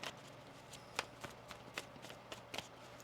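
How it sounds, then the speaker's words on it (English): Tarot cards being shuffled by hand: a series of crisp riffling bursts, roughly one every half second, close and fairly quiet with no talking. "One more shuffle."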